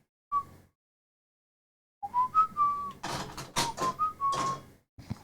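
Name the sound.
person whistling the Mega Man tune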